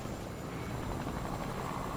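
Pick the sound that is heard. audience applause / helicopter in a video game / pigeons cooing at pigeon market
helicopter in a video game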